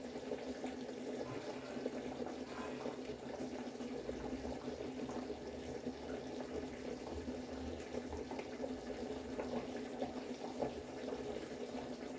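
Shorva, a mutton broth, boils in a pot with a steady, continuous bubbling and seething hiss that stays even and fairly close throughout, with no voices.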